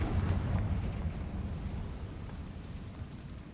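A Confringo spell blast in Hogwarts Legacy, a deep rumbling explosion that hits loud at once and slowly fades over a few seconds, with no talking.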